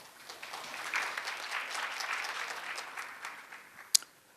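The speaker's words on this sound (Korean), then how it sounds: "큰 박수 부탁드립니다." Moderate applause from a conference audience at an industry forum session, swelling and then fading out, ending with a single sharp click.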